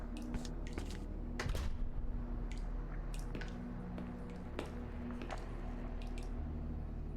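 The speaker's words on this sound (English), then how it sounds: "Curse you and your water dripping sounds." Scattered wet drips and small splashes fall at an uneven pace over a low, steady background hum in the video game Song of Horror.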